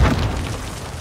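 A rocket launcher explosion in the Warzone video game: a single loud, deep boom with a rumbling tail that fades over about a second, with no talk over it.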